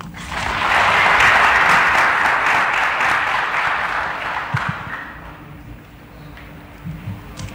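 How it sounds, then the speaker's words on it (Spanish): An audience at a Bolivian official swearing-in ceremony greets the new Attorney General with loud applause that swells quickly, holds, then gradually tapers off, leaving scattered faint sounds. "Lo recibimos con ese fuerte aplauso."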